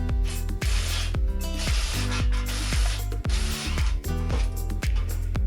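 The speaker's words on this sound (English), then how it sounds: "so just a bit of WD-40 on that" WD-40 sprayed onto the steering arm of a 2022 BMW M135i xDrive, a few close hissing bursts of aerosol over a steady background hum in a workshop.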